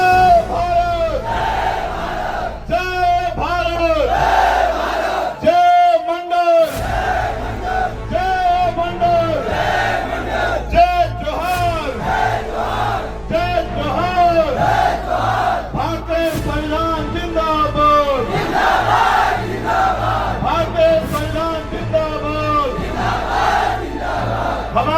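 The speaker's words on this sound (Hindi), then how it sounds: "एक तरफ हजारों की भीड़, दूसरी तरफ नारेबाजी" A crowd of thousands at a political rally in Datia chants slogans in loud, repeated rhythmic unison, with the voices swelling and surging almost continuously and one brief drop near the middle.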